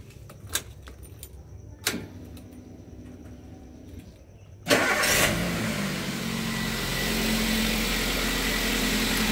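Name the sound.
car engine starting, Toyota Avanza / Daihatsu Xenia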